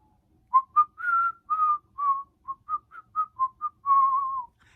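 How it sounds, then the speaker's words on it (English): Someone whistles a short melody of about a dozen clear notes, some brief and some held, clean and close with no talking. "Can I whistle?"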